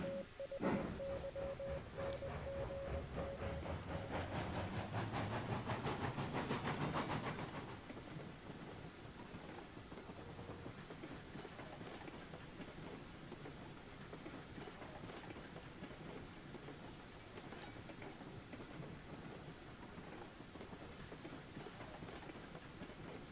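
A locomotive backs into a shed in Railroads Online. Heavy chuffing and rumbling rail noise with a brief whistle tone comes first, then fades to a quieter, steady rolling hum.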